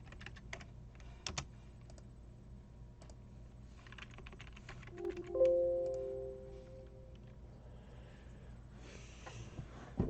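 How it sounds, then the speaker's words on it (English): Computer keyboard keys click while foreign-language text is typed, a quiet irregular patter of taps with a few louder strikes, plus a brief tonal sound near the middle and faint sniffing. "I find it more worthwhile to do it this way, to type foreign languages this way, than to use the numeric keypad"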